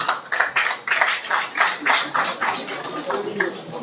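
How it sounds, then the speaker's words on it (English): Audience applause at a government ceremony in Osun, a patchy burst of hand claps with uneven rhythm, moderately close and mixed with murmuring voices. "A round of applause to the most perspicacious lawmaker in our state."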